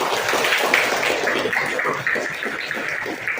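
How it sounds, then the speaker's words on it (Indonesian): A classroom claps for a student, producing a steady, dense wash of applause that holds for several seconds without talk. "tepuk tangan untuk Dea"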